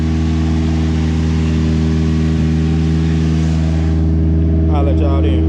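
Nissan 720 truck engine running at a steady loud idle close by, a continuous droning hum with a person talking over it.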